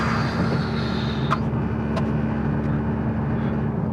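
A tuned 460bhp Audi S3 with extensive modifications accelerates hard, its engine a loud, constant roar heard close up, broken by a few brief sharp clicks or pops.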